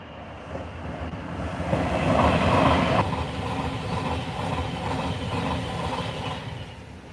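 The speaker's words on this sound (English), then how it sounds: "here we've got looks like a Pendolino coming" A Pendolino train passes on the rail line, a steady loud rush of wheels and track rumble with rhythmic clacking that swells midway and stays strong as the carriages go by.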